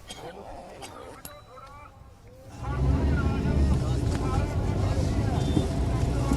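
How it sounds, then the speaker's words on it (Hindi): Heavy engine rumble and wind buffeting swell up after a quieter start, as a farmers' tractor convoy rolls past close by toward Shambhu Border, with voices faintly underneath. "गाड़ियों की आवाज"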